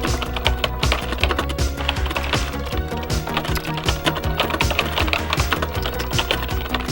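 Rapid, continuous clacking of keys on a chunky Commodore 64 keyboard, the keystrokes close and crisp in an uneven typing rhythm.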